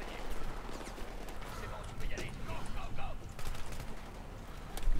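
Automatic weapon fire in Battlefield 3 cooperative play crackles in rapid bursts and scattered shots, moderately loud, mixed with keyboard clatter and a player's voice talking over the action.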